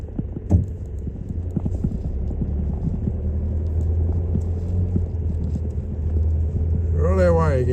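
Car cruising a smooth outback dirt road in South Australia, a steady low engine rumble and tyre hum throughout with light rattles, loud and close inside the cabin, with a brief voice near the end.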